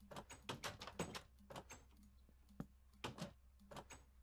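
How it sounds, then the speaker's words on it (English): Minecraft 1.9 door sounds play as a run of short wooden creaks and clacks, several opening and closing in uneven succession, close and clear over a low hum. "and then the new door sounds."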